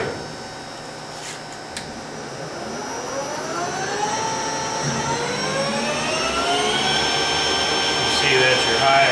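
A Clausing 18x60 lathe runs in low speed with a steady mechanical whine whose tone rises slowly as it spins up, loud and close, backed by a constant motor hum and a couple of brief clicks.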